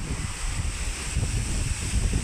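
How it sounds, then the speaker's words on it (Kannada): Heavy wind blowing beside a peepal tree next to a house, heard as a continuous rushing roar with low buffeting rumbles against the microphone and no talking. "ಹೆವಿ ಗಾಳಿ ಬೀಸ್ತಾ ಇದೆ ಇದು ಅರಳಿ ಮರ ನಮ್ಮ ಮನೆ ಪಕ್ಕನೇ ಇದೆ ಗಾಳಿ ಬೀಸ್ತಾ ಇದೆ"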